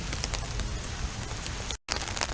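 Steady rain falls on a rainy day, a dense even patter of drops that is fairly faint and continuous, briefly cutting out near the end, with no voices.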